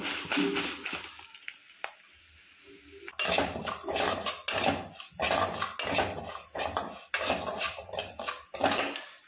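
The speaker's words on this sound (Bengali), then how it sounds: "ডালিয়াটা ভাজা হয়ে গেছে, হালকা ভেজে নিয়েছি।" A spoon stirs dalia, broken wheat, frying in a pan, giving repeated rhythmic scraping and metallic clinks against the pan, close and fairly loud, after a short quieter stretch.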